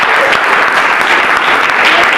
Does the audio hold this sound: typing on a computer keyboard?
no